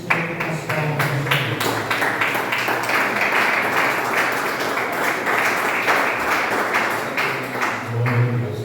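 Church congregation clapping during a family worship service, rhythmic hand claps repeating steadily for several seconds with a few sharper accents, loud and close, with a low hum of voices.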